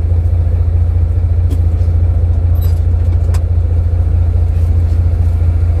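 A 10-wheel Howo dump truck's diesel engine idles steadily and close, a constant low rumble with faint metallic clicks as the driver works through the gears, no voices over it.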